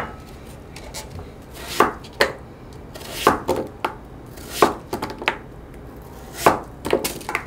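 A knife chops radish into thick pieces for dongchimi, landing in irregular, loud, close thuds on a cutting board with short gaps between strokes and no talking.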